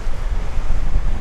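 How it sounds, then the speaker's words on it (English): Strong wind buffets the microphone beside a lighthouse on the coast, a loud, constant low roar mixed with sea surf and no voices. "Wow, it's very windy here."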